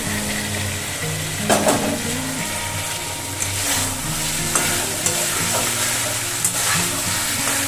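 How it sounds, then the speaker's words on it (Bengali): Fried potatoes stir-fried in a spice paste that has released its oil, a steady close sizzle broken by repeated scraping stirs of a spatula against the pan, with a low background hum throughout. "এবার আমি ভাজা আলুগুলো এর মধ্যে ভেজে দিলাম"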